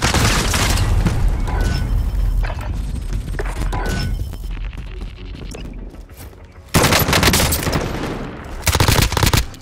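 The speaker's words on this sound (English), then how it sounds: "Friendly precision airstrike inbound." Airstrike explosions and heavy gunfire in Call of Duty: Modern Warfare: loud booming blasts and rattling machine-gun bursts, fading to a quieter lull before two more powerful, close explosive barrages hit.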